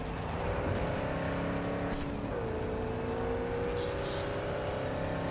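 Car engine drone in the video game Cyberpunk 2077, a steady mid-pitched hum with a gear shift midway, continuous and fairly close throughout with no talk.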